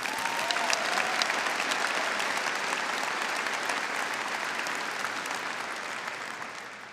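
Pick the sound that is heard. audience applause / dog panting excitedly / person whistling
audience applause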